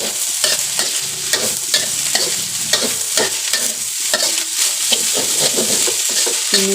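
Glass noodles with meatballs, greens and spring onion stir-fried in a pan: a rhythmic scrape and toss of a spatula over a light sizzle, close and continuous without talk.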